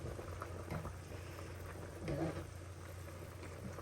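Pasta boils in a pot of water over a campfire in a secret cabin in the woods, giving a low, continuous bubbling rumble at moderate distance with a brief swell partway through.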